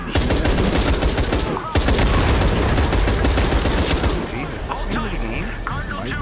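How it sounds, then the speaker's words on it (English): Dense, sustained gunfire rattles in Shadow of the Tomb Raider, with automatic bursts stacking into a loud, chaotic barrage that briefly drops out and then eases into scattered shots, while voices talk over it. "What are you shooting at?"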